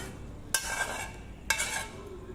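Ghee with cashews is stirred into flour dough, two sharp clinks of a utensil against a bowl each followed by brief scraping, quiet and close.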